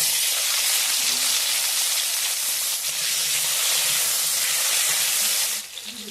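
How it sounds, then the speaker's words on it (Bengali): Cut potatoes fry in mustard oil in a kadai with a loud, steady hiss and sizzle that holds evenly and then dips slightly near the end. No voices are heard. "আলুটাকে ভেজে নেব।"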